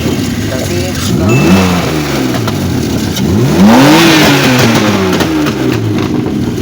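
BMW 3 Series engine with an MS43-to-MS42 throttle body conversion, revving up twice in rising sweeps over a steady idle, close and loud, with faint voices in the background.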